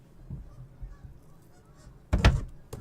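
Geese honk in the video game Silent Hill 2. A few soft calls come early, then a loud close burst of honking follows near the end.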